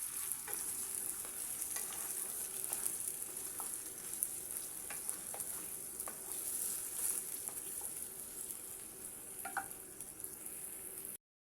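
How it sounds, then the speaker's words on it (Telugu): Chicken liver sizzles and fries with onions in a pan while being stirred, a soft continuous hiss with occasional light scrapes and ticks from the spoon, fairly quiet and steady throughout. "లివర్ వేసేసుకొని దీన్ని కూడా బాగా కలబెట్టుకోండి"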